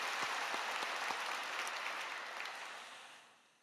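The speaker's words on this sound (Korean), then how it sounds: "다시 한번 하나님께 감사의 박수" A church congregation applauds in thanks to God during a Sunday evening worship service, a dense, steady roar of clapping that fills the hall and gradually fades away toward the end.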